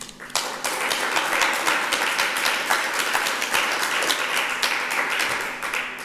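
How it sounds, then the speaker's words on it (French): An audience gives sustained applause, a busy, even patter of many hands clapping that holds steady for about six seconds with no talking over it. "On peut applaudir pour vous, Julien."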